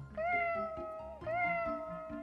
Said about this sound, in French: chat errant qui miaulait tristement